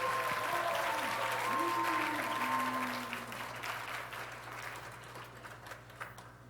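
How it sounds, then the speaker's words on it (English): Applause from a concert audience, with a brief voice over the start, then the clapping gradually thins and fades, a faint steady hum underneath. "big round of applause"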